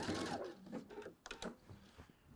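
A sewing machine back stitches a lapped zipper in short, quiet bursts of rapid needle clatter that start and stop over a couple of seconds.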